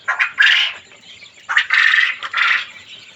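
Loud, harsh koel calls in several bursts, close by, with short pauses between squawks and no talking.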